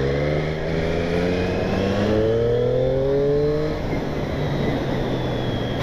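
A 2020 Triumph Street Triple S 660 motorcycle, restricted to 47.5 hp, being ridden hard, its three-cylinder engine climbing steadily through the revs, dropping briefly at a gear change and then easing off, loud and close with wind noise.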